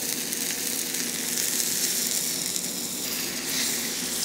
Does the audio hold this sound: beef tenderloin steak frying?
yes